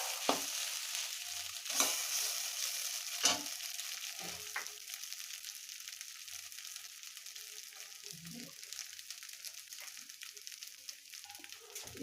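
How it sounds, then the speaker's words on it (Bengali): Chowmein frying and being stirred in a pan at home, a steady sizzle with scattered scraping strokes of the spatula throughout. "তো ঝড়কো করার জন্য অবশ্যই নাড়তে থাকবেন।"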